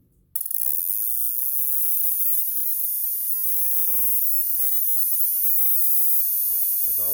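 A resistor spark plug with its ground strap cut off sparks on a tester as engine speed climbs to high RPM, heard as a steady buzzing electrical hum whose pitch slowly rises, continuous and close.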